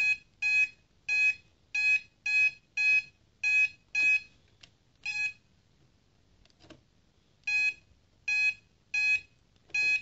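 Short, bright electronic confirmation beeps from a Singer MT610 sewing machine repeat in quick pairs and runs, with a few pauses in between, over a quiet background.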